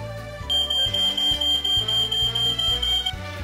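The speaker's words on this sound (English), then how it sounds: "Regularly testing your smoke and carbon monoxide detectors and changing the batteries as needed is always a great idea." A smoke detector sounds a single sustained, piercing high-pitched alarm tone for about two and a half seconds over background music.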